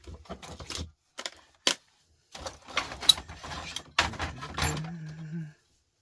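Cutters snip through single wires inside a gold and silver display panel: several sharp, close clicks and crunches in an irregular sequence, with brief scraping and handling noises between them.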